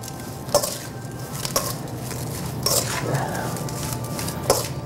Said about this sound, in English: So we're gonna add about 1/2 cup of sugar. And then we're gonna mix this like that.